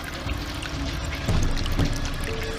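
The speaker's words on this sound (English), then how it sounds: "Water." Water pours and flows steadily in a documentary segment on ancient mining, a broad rushing wash with a slight surge partway through, loud and continuous with no talk.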